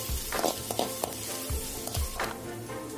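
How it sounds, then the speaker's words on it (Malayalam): Beans being stir-fried in a pan for wheat flour egg noodles: a steady close sizzle with several soft scraping strokes of the stirring spoon, and no talking. "ഇനി ബീൻസും കൂടി ഇട്ടിട്ട് നന്നായിട്ടൊന്ന് ഇളക്കി കൊടുക്കാം"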